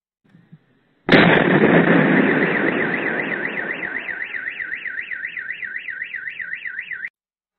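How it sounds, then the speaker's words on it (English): A large explosion outside a building caught on CCTV during the war in Ukraine, bursting suddenly and loudly, then a sustained roar fading slowly while a wailing car alarm rises and cycles over it; no talk. "A CCTV video shared online allegedly contains the sound of a large explosion before smoke rises around the building."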